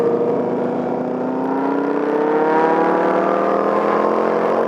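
A truck engine drones steadily on a road nearby, a continuous loud rumble with a slowly shifting pitch and no talk.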